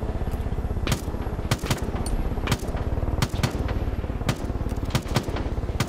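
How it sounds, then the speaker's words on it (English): Rapid machine-gun fire from weapons in Far Cry 5 rattles continuously and loud, with sharper individual shot cracks punching through the steady stream throughout. "I'm firing all the weapons!"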